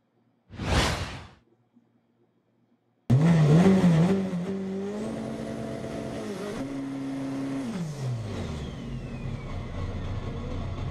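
A drag race car launches after a brief whoosh, its engine bursting into a loud, sustained roar with wavering, rising and falling revs as the clutch slips, continuing steadily to the end.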